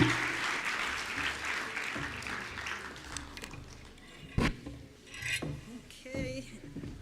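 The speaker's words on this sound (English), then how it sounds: "Another warm round of applause for Professor Makgoba." An audience at a university lecture applauds moderately from a distance, with scattered clapping that comes and goes and a few sharper claps and knocks standing out.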